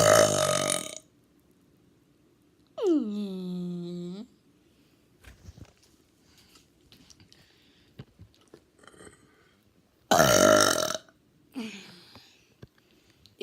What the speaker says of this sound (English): What do you think I'm going to be doing this video? Burping, sucker!